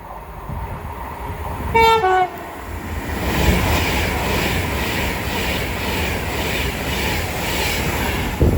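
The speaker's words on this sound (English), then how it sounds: "a Van to West Coast 390 Pendolino going from London Euston to Blackpool North" An Avanti West Coast Class 390 Pendolino, running from London Euston to Blackpool North, sounds a sharp two-tone horn near the start, then rushes through Watford Junction with a loud, sustained roar and rhythmic wheel clatter.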